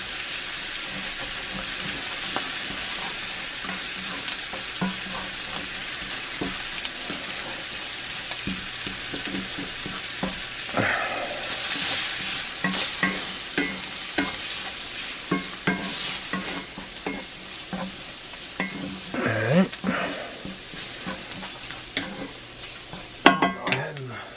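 Sausage fat and flour frying in a cast iron skillet, sizzling steadily while a utensil stirs and scrapes through the roux in repeated strokes, close and continuous, with occasional louder clinks.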